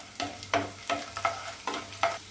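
Garlic cloves fry in a pan for a coconut-free chutney, with soft rhythmic stirring scrapes repeating about every half second over a low, quiet sizzle, no voices.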